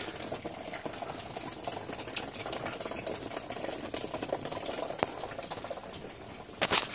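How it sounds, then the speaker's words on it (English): Rainwater leaking into a house and dripping into catch containers during a storm, heard as steady irregular patter and splashing with a few sharper drips near the end, with no talking. "I'm trying to catch as much of the rainwater as I can, but this is just awful."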